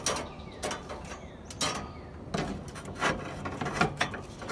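Metal grill racks are set onto a barbecue with a series of uneven clanks, scrapes and rattles, close and moderately loud, with a short pause partway through.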